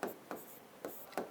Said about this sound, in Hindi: मैं यहां लिखता हूं